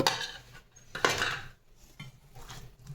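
Spoon scraping and clinking against a bowl while soaked semolina is mixed into buttermilk for idli batter, a few close stirring strokes with short pauses between.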